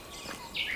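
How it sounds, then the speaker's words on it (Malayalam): A brief, faint bird chirp rises over soft background hiss, one quick high call near the end, in a forest on the Gibson Lake Trail near Kokanee Glacier, British Columbia. "നിങ്ങൾക്കിപ്പോൾ കേൾക്കാൻ പറ്റുന്ന"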